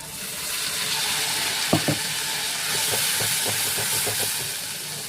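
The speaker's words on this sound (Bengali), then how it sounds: "এবার আমি মশলাটা ঢেলে দিচ্ছি।" Spice mix poured into hot oil in a pan, giving a steady close sizzle and hiss throughout, with a few soft clinks and scrapes of stirring partway through.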